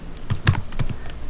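Keystrokes on a computer keyboard while coding a Python config.json loader, a short run of close, crisp taps at an irregular pace.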